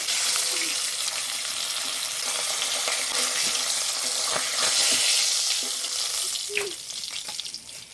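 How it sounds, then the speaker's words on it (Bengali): Pomfret fish pieces fry in a pan with little oil, making a steady, fairly loud hissing sizzle throughout, broken by a few soft clicks as the pieces are turned. "মাছটা হালকা ভাজা দেবো, শুধু উল্টে পাল্টে নেবো।"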